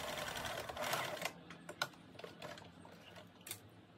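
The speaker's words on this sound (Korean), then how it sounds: "접어서 중심 표시에 4cm 정도를 박아줍니다" Sewing machine stitching a fold in floral-print linen for a pleated summer dress, a fast close mechanical chatter in short bursts with quiet clicks and pauses between.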